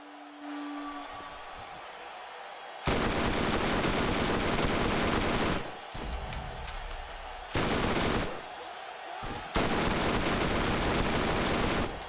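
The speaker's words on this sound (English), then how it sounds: "Super bad guys shooting into the tent roof." Enemies firing into a tent roof in a Borderlands game, loud sustained bursts of automatic gunfire in three long stretches separated by quieter gaps with scattered shots.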